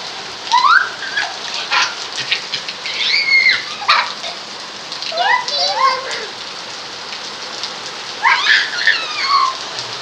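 Steady rain patters down with voices calling out over it, the downpour continuous and fairly close throughout.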